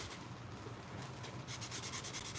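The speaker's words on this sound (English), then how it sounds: "Tack Cloth is really good to get sanding dust off things, because you just rub it over it" A tack cloth wiped back and forth over sanded wood to lift off the dust, giving a soft, steady rubbing swish that quickens into several brisk strokes near the end, close and fairly quiet.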